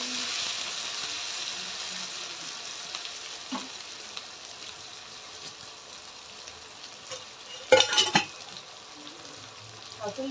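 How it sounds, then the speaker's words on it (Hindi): Elephant foot yam pieces fry in oil in a pan until browned, giving a soft, steady sizzle close by, with a brief clatter of stirring or utensil contact partway through. "जब ये अच्छे से फ्राई हो जाए"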